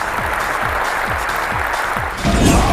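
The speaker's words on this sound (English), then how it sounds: "he delivers the hit, and the crowd goes wild" A large audience at the Sony E3 2005 press event applauds and cheers in a steady, dense wash over rhythmic bass thumps from stage music, swelling louder near the end.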